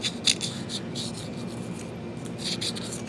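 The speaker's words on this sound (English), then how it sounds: "you want to make sure you sand up the edges right there" Fine 600-grit sandpaper rubbing along the edges of a Husqvarna or Poulan chainsaw engine part, a steady close rasping scrape with brief brighter strokes and no talk.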